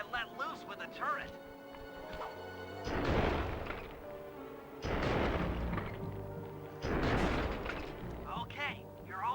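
Tank turret cannon fire in the video game Sly 2: three heavy booming blasts at regular intervals, each rolling out with a long rumbling tail over lighter game sounds.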